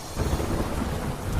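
Steady rain falls in Bardoli, Surat, with a low rumble of thunder underneath, a dense continuous wash of sound up close and no voices.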